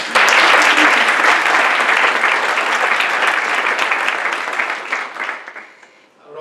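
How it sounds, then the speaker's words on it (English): Sustained audience applause at an evening philanthropy school event, loud and dense from the start, then thinning and fading out near the end. "please join me in one more hand of applause for all the generous support we have received"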